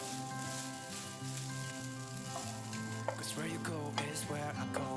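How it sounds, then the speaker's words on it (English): Fried rice sizzles in two frying pans, a steady broadband hiss running throughout with louder bursts near the end; a tonal hum sits underneath, and faint singing or music-like harmonic sounds rise in the second half. "I prepared this fried rice sharp with 2 frying pans."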